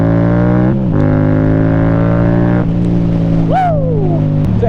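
A recovered stolen motorcycle runs close and loud with a steady engine drone, briefly dipping as the revs change, then rising in pitch with a revving sweep near the end.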